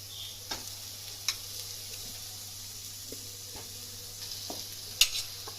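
Chicken pieces cut large for biryani sizzle in hot oil in a home kitchen, a steady low frying hiss with a few sharp pops and clinks, and no talk.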